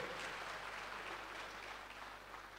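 Audience applause fills a Hanukkah gathering in a large synagogue in Tel Aviv: steady, dense clapping from a crowd, fairly even throughout and slowly easing off toward the end, with no voices over it.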